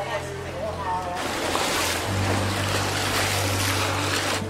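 Boat ride on water at a fishing village on Lantau Island, Hong Kong, with a steady engine drone and broad rushing water and wind noise throughout, a brief voice at the start.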